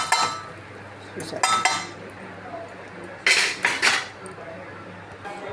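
A spoon clinks and scrapes against a pan in short bursts while tempering is stirred into mushroom curry, and a voice speaks briefly.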